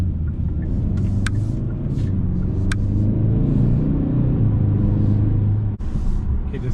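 Steady low rumble inside a Kia K5 GT while it drives, a constant road and engine drone with a few faint clicks and no voices.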